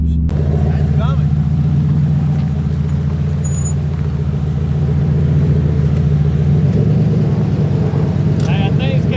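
A turbocharged LS-powered car on a cold drag track, its engine rumbling in a steady low drone with a shift in pitch near the end, heard from inside or close by; a person talks over it.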